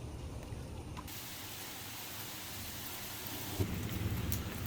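A steady, heavy downpour drums on surfaces during a thunderstorm over a home, with deep low thunder rumbling through and a louder crack and roll building near the end, no voices over it.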